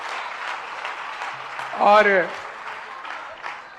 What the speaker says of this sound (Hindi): जरा जोरदार तालियां आप भी बजाइएगा